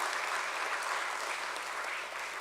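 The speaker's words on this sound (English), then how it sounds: "So a big round of applause for all the people who really worked hard on this one." A dense, steady wash of clapping from an audience at a stock exchange listing ceremony, sustained evenly for a couple of seconds.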